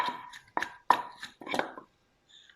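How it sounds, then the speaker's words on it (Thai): Papaya salad pounded and tossed in a mortar: five or six loud, uneven thuds with short scraping tails, close up, then quiet. "ทีนี้ก็ตำคลุกๆพอเข้ากัน"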